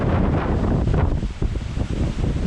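Strong wind outdoors buffets a microphone, a loud, continuous rough roar with gusty surges and a brief dip.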